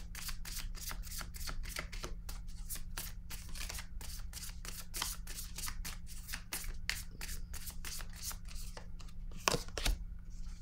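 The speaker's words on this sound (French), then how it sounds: "je vais piger une autre carte" Tarot cards being shuffled and drawn from a deck, a soft rapid riffling and flicking of card stock over a low steady hum, close and quiet, with a sharper snap near the end.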